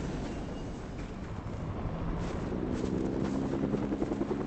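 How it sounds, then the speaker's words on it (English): A helicopter lifts off in Fortnite No Build duos, its steady rotor thrum and engine roar filling the scene and growing slightly louder throughout, with no talk over it. "Well, someone just took off in a helicopter."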